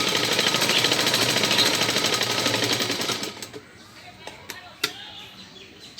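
Sewing machine stitching teddy bear fabric, a fast, steady rattling run for about three seconds that stops abruptly, followed by a few scattered clicks and taps.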